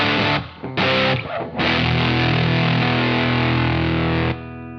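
Electric guitar through a homemade transistor fuzz pedal set to low gain, giving a vintage fuzzy tone: a few sharp chord stabs, then a long sustained distorted chord ringing loud and close before cutting off.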